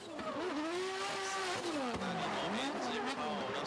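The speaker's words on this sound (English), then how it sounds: "kicks the back out with the handbrake" BMW drift car at a D1GP drift event at Ebisu, sliding sideways after a handbrake kick, its engine wailing in rising and falling revs with tire squeal, loud and close throughout.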